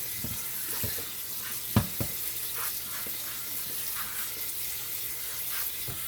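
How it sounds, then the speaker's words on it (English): Cold tap water streams over freshly strained pasta in a home kitchen, a steady hiss broken by a few clanks of the pot or strainer. "Put some cold water on it to stop the cooking process as well."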